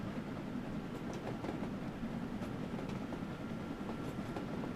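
Passenger train in Train Sim World 2 on the Liverpool Lime Street to Chester run, a steady rumbling roll on the rails with faint rhythmic clicks, continuous and even, with no voices.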